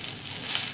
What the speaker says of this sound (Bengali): আমি এবার চাউটাকে হালকা করে ভেজে নেব।